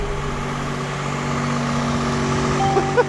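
A loud car engine idles with a steady, droning hum close by, joined by a couple of brief knocks near the end.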